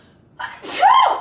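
A single close, sharp sneeze with a quick inhaled build-up followed by the loud burst.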